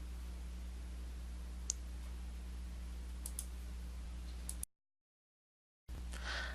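A computer mouse clicks while a web meeting is opened in Adobe Connect: a few sparse, faint, sharp clicks over a steady electrical hum, followed by a brief total silence and then a short burst of noise.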